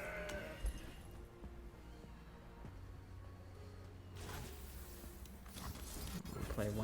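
A goat bleat from the Mountain Goat card in a digital card game, one short animal call amid game music and effects, with a player talking over it.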